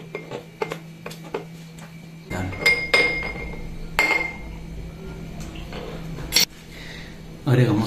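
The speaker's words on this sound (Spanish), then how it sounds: "Y lo vamos a machacar." Lemon pieces are crushed with a muddler in a cocktail glass, giving a series of close dull thumps and clinks of glass and metal, interrupted by sharper knocks, while someone talks.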